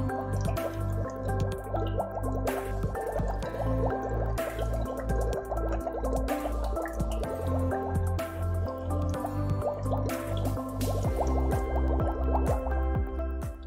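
Air blown through a tube into a small container of Great Value bottled water for a pH test gives continuous bubbling, gurgling and dripping, close and fairly quiet, with no talking.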